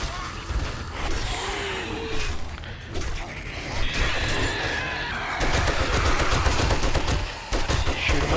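Gunfire aimed at zombies in the console version of the 7 Days to Die video game, heard as dense, loud rapid shots with crashing impacts that carry on steadily throughout.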